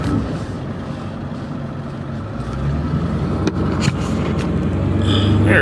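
A car driving along heard from inside the cabin, a steady low engine and road drone that grows slightly louder, with a few faint clicks and knocks near the microphone.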